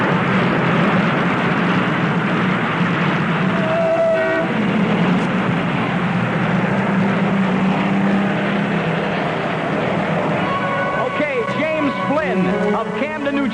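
Ambient recording of a bridge on Chestnut Street near the B&O railroad station in Camden, New Jersey, with a steady broad traffic-like rumble and distant mechanical hum throughout, plus brief tonal squeals and clanks near the end.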